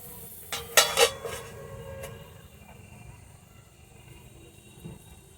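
A metal lid goes onto a cooking pot of simmering vegetables with a quick clatter of clanks and scrapes, then a low, steady bubbling hum continues.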